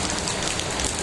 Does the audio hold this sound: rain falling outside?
yes